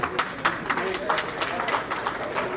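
An audience claps at a political speech, with scattered, fairly close claps repeating steadily throughout.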